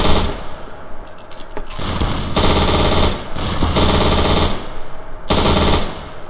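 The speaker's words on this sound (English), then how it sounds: "I got an MG42" An MG42 machine gun in Garry's Mod rips out four long, loud bursts of rapid fire separated by short pauses, close up and with no talking.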